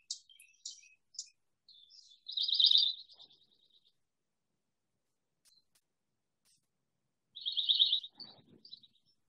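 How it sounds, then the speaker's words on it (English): A pine warbler, an early-arriving spring wood warbler, gives two clear high trilled phrases separated by a pause, with a few faint chips in between, heard alone. "Again, the pine warbler is an early arrival."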